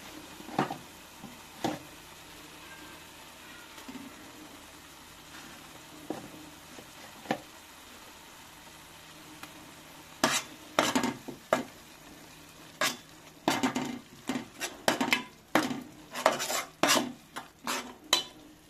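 Ginger garlic paste drops into a boiling fish curry, setting off a bright crackling sizzle with clattering utensil and pan knocks in bursts, sparse at first and then busy and close; no one speaks.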